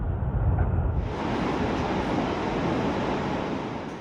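Victoria Falls waterfall roars as a loud, steady broadband rush of heavily churning water, continuous throughout with no talk.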